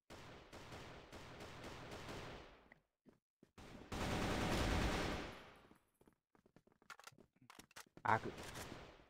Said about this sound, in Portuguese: Jogando com a AK clássica.